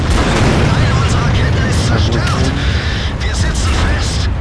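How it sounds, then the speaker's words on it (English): Loud, continuous booms and rumbling explosions from tank battle in World of Tanks, with an artillery shot hitting a tank amid heavy dense impacts that fill the whole stretch. "Was that the artillery that shot me?"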